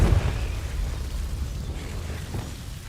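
A Confringo blasting spell detonates in Hogwarts Legacy, a sharp booming burst at the start that decays into a rumbling roar fading over a few seconds.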